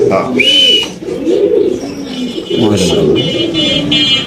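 Silver pigeons coo at a home loft, with soft repeated throaty calls over a few seconds and voices nearby.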